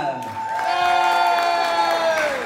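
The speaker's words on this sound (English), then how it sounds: "How about a big round of applause for Vivian Oblivion?" An outdoor Halloween fright-fest crowd at Frontier City cheers and applauds for a performer, a dense continuous roar of clapping and whoops with a bright tonal ring over it.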